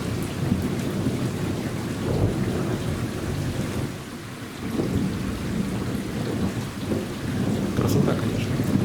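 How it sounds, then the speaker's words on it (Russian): Low rumbling thunder rolls over steady rain in the mountains, the deep roar swelling and fading across the clip with no voices. "Опять гром."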